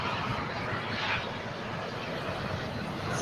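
A JetBlue Airbus A321 jet arrives at LAX with a steady, moderately distant rushing engine roar across the brief moment.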